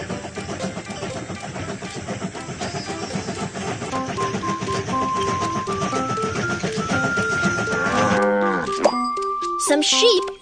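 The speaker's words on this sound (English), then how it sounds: "Some sheep are on the train track." Sheep bleating and lowing on a train track in a children's cartoon, overlapping calls over a rumbling train and music-like tones, ending in a quick sequence of synthetic cartoon sound effects.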